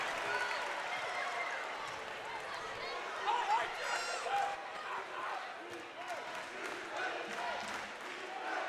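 A basketball crowd at a Lady Eagles game against Bob Jones University cheers and claps after a three-pointer, moderately distant and swelling midway, with a commentator talking over it and squeaks from the court.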